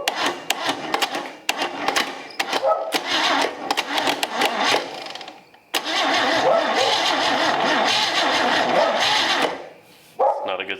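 An old Chevy 250 straight-six is turned over in a run of short, choppy mechanical bursts, then a long, loud, sustained churning stretch that cuts off abruptly before a brief final burst.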